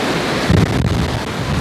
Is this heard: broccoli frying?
no